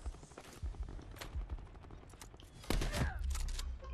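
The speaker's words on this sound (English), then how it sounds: "God, that shotgun had a range." Shotgun blasts and other gunfire ring out during a free-for-all match in Call of Duty Black Ops 4, a cluster of fairly faint, sharp shots with a louder burst near the end.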